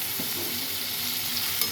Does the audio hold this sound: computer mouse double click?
no